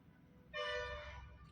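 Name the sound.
bus horn honking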